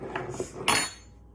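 A utensil stirs gluten-free sourdough starter in a container, with a few quick clinks and scrapes against the side followed by one louder knock, close up and brief.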